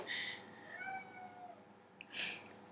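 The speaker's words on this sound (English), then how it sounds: "there's a kitty." A cat meows a few times, with a drawn-out, wavering call followed by a shorter, higher cry, faint and close with no talk.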